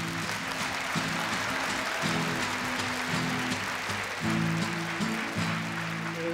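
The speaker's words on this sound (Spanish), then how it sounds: "El primer aplauso de esta noche." An audience applauds and cheers at a live comedy and variety show as a singer is welcomed, the steady clapping mixed with band music playing throughout.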